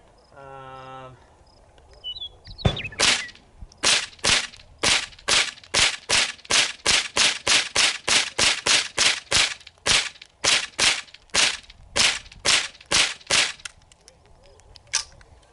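An AR-style rifle fitted with a CMMG .22LR conversion kit fires about two dozen sharp, evenly spaced shots in quick semi-automatic succession, close and crisp, after a brief mechanical handling noise.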